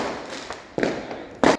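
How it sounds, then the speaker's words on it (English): Diwali fireworks across London on 12 November 2023: a few scattered sharp bangs, with two louder bursts standing out, at a moderate distance amid a quiet night background. "A lot of fireworks going on in parts of London."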